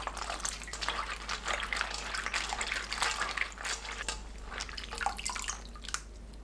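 Dried shiitake mushrooms are rinsed in water, with steady splashing and trickling close by, flowing continuously with small irregular drips and swishes throughout.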